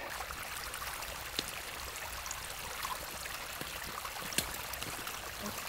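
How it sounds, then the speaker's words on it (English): Water trickles and gurgles out of the ground beside a cliff in the Sarek wilderness, a soft continuous burble with faint drips and ticks, heard steadily for several seconds without voices. "Water coming from the ground."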